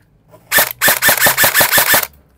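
An HFC airsoft rifle fires on full auto, a loud, close, rapid string of about eight evenly spaced sharp pops that stops abruptly into silence.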